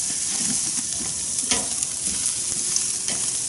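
Squid, octopus and other molluscs grill over charcoal with a steady, close sizzling hiss that carries through the whole stretch, broken by a few sharp crackles and scrapes. No one speaks.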